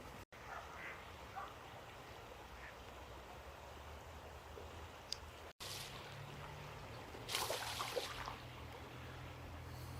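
Ducks quack beside a stream, fairly distant and intermittent over a steady wash of outdoor water and wind noise, with a brief louder burst near the end.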